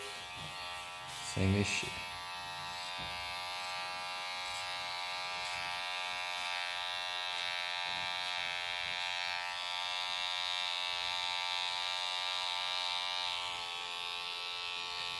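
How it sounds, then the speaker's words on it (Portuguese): Electric hair clippers buzz steadily and close up while a barber finishes the neckline of a fade haircut; a voice speaks briefly near the start. "Vou passar na maquininha"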